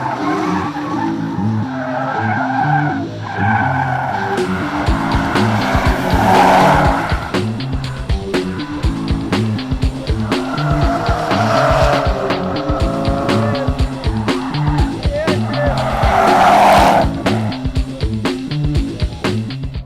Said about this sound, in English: Let the drifting mayhem begin.